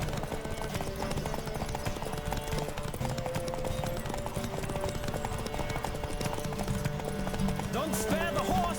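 Horse hooves gallop in The Witcher 3, a steady clip-clop under a dense, loud game soundtrack with a voice calling out.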